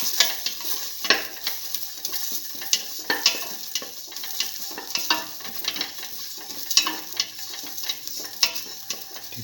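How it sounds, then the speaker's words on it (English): Ginger, garlic and salt sautéing in a pan make a constant sizzle, with frequent sharp scrapes and taps of a spatula stirring throughout, close and without talk. "keep on sauteing."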